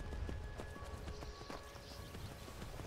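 Ice horse from the Skyrim video game, its hooves clip-clopping at a steady gallop, quiet and fairly close, with a faint whinny and muffled background noise.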